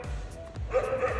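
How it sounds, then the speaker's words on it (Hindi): A dog barks and yips close by in a couple of quick, excited bursts with a whining edge, heard outdoors near a forest. "और ये कुत्ता भाई भोग भोग के पागल हो गया।"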